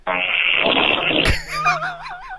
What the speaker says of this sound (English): It was a big fart.